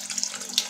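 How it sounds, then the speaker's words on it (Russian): Hot water from a steaming kettle poured into a pot for chicken in gravy, a steady splashing trickle with a few brighter splashes, close and alone without speech. "Наливаю горячей водой"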